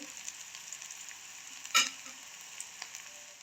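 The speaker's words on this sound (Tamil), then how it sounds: "வெங்காயம் வதங்கி கொண்டு வருது" Onions sautéing in a pan while cooking a soya meat gravy, giving a steady, fairly soft sizzle with one brief louder crackle of stirring partway through and no talk.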